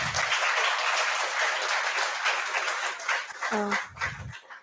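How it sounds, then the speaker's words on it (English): An audience at a civil services society session applauds, dense clapping filling most of the clip and then thinning out near the end, where a brief voice breaks through. "Please give a huge round of applause again."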